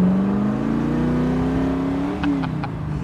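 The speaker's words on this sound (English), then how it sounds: "Listen to the pipes a little bit." A 2010 Factory 5 GTM supercar exhaust revving at about quarter throttle, a deep steady burble with rising and falling pitch, close and loud, and no talk over it.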